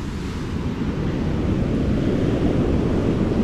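Southwest monsoon gusts driving choppy sea waves, a dense, loud, continuous roar of wind and surf close to the microphone, low and rumbling throughout, with no one speaking.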